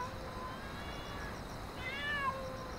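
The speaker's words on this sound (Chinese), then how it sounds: "小猫" A single kitten gives a soft, drawn-out meow late at night, faint against a quiet hiss of room tone.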